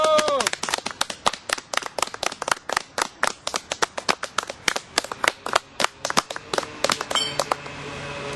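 An audience applauds at an event honouring Félix Rodriguez, with sharp, close hand claps in a brisk, slightly irregular rhythm that run for several seconds before thinning out into a duller room tail.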